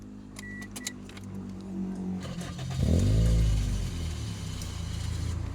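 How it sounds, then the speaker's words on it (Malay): A car engine cranks and catches at about three seconds, a low rumble swelling and then settling into a steady idle after some earlier clicks and rustling, with no talking. "Kita start kereta."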